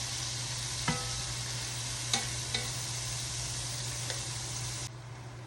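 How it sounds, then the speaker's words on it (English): Onions and peppers sauté in a pot with a constant hiss of frying while a spoon scrapes to deglaze, giving a few distinct knocks and scrapes before the sizzle drops off near the end. "I have my onions and peppers sauteing already, deglazing the bottom of that pan."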